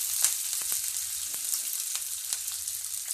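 Chicken and green chilies sizzle steadily as they are stirred in a hot pan, with light scraping clicks from the spoon repeating every fraction of a second, close and alone.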